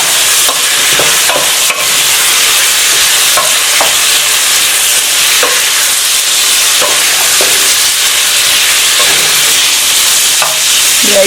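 Food fries in a pan under loud, constant sizzling, with repeated scraping strokes of a utensil as it is stirred, close and alone with no talk.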